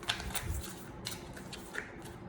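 A Tarot Del Toro deck with thin cards and plain, ungilded edges is shuffled by hand, giving several soft papery riffling bursts close by, separated by brief quiet gaps.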